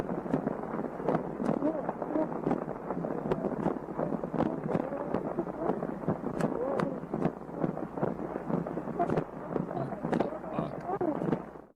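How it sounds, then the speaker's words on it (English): Muffled talking on one of the oldest surviving voice recordings, nearly buried under rough, crackling wind noise buffeting the microphone, with sharp pops and clicks scattered throughout. "It's super windy."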